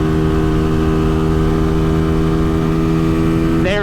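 A Venom 250cc motorcycle engine drones steadily near the microphone with a constant buzzing hum, then its pitch rises sharply in the last moment as it starts to accelerate.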